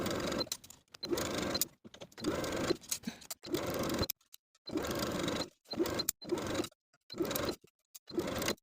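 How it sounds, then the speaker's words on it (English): A sewing machine sews the upper and lower pieces of a V-neck boho top together with a 3/8 inch seam allowance, running in about ten short bursts separated by silent pauses. "Sew the upper and lower pieces together with a 3/8 inch seam allowance"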